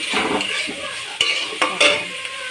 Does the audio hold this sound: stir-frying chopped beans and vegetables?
yes